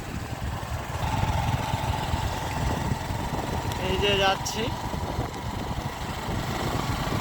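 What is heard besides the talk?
motorbike engine while riding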